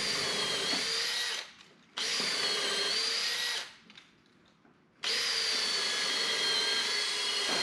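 A power drill whines loudly in three long bursts, drilling 1/4-inch through-holes for rivets on a wooden boat's aft hatch, spinning down briefly between each run before starting up again.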